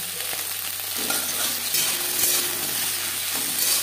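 Food stirred in a pan over a low to medium flame: close scraping stirs over a continuous frying sizzle, short and steady.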